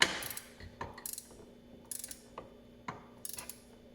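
Ratchet tightening small 6 mm bolts on a billet pinion cover of a Polaris Sportsman 850, close up: short bursts of quick metallic clicking separated by brief pauses, with scattered light metal taps.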